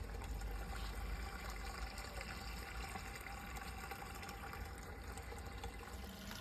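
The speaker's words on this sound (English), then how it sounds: "That's a lot of water going in" Steady rushing and trickling water runs without pause into a wicking bed box, a faint continuous wash of liquid pouring in, with no talking.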